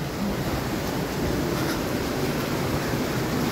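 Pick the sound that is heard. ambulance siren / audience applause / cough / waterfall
waterfall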